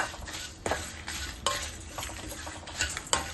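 Dried red chillies and spices fry in hot oil for a Chettinad-style brinjal gravy, a steady sizzle under sharp metal clinks and scrapes as a spoon stirs the pan.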